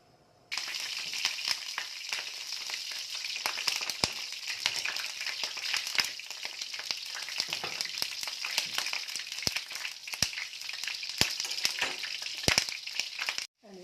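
Chopped onions dropped into hot oil and melted butter in a pan, erupting into a steady close sizzle and crackle that continues with occasional stirring clinks, without speech.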